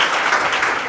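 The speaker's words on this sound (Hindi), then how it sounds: "इनके लिए एक बार ताली मारिए आप लोग" Classroom audience applauding a student, a dense burst of many hands clapping together, loud and close, filling the whole short moment without any talk.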